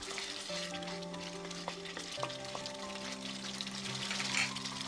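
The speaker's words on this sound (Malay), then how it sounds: "Kacau hingga sebati dan biarkan mendidih." Chili sauce gravy for a spicy sardine sambal simmers and is stirred in a pan, giving a soft, continuous sizzle with light scraping and bubbling, quiet and close with no voices.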